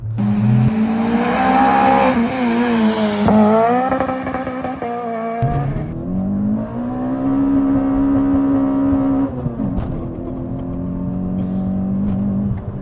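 A loud 2004 Toyota Corolla T Sport hot hatch engine revving hard to 8,200 RPM through the gears on back roads, the exhaust rising and falling in pitch with each shift, close and continuous.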